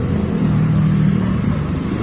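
A motorcycle engine with a rattling fault runs close by at a steady idle, a loud, continuous low mechanical drone with a rough, buzzing texture and no talk.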